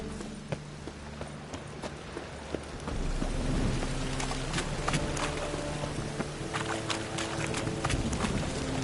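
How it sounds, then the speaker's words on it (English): Rain in The Witcher 3, a steady hiss of drops on surfaces with scattered sharp taps and patters, growing slightly heavier partway through, with a low rumble beneath. "Rain was coming."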